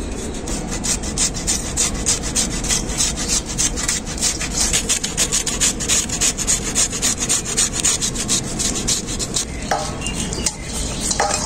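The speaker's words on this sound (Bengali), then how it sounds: "তো ফুলকপিটা এখন পূজা গ্রেট করে নেবে।" Cauliflower is grated by hand, with rapid rhythmic scraping strokes rasping continuously and close up for about ten seconds before a short pause and resumption, no talking.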